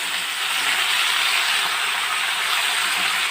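Spinach tossed into a pan of fried vegetables sizzles with a dense, steady hiss, loud and close, with no voices over it.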